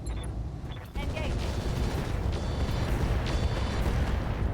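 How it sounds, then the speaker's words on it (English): In the mech combat game RogueTech, machine gun ammunition cooks off in a dense, continuous roar of explosive crackle and rumble, loud and sustained after a brief quieter lead-in. "MG ammo explosion"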